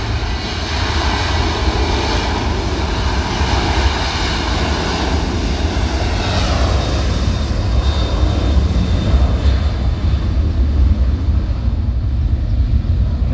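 Engines of a Lion Air passenger jet roar loudly and continuously as it rolls for takeoff at Sultan Hasanuddin International Airport, Makassar, a broad powerful rumble that swells and holds throughout.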